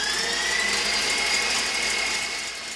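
An electric mixer whisks egg whites on high speed for a German chocolate cake, giving a loud, steady motor whir with a thin whine that holds throughout.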